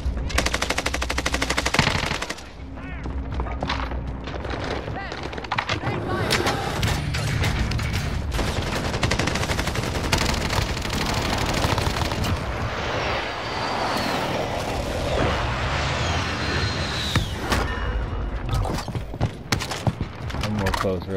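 Loud, dense automatic gunfire from Call of Duty: Modern Warfare, with sustained bursts of rapid shots, explosions and game effects layered throughout, nearly continuous with brief gaps.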